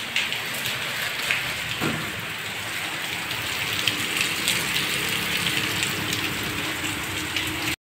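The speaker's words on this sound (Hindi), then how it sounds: "अभी बारिश बहुत ज़्यादा हो रही है" Heavy rain pours steadily, a dense, continuous hiss of drops striking surfaces with a few louder splashes, no one speaking.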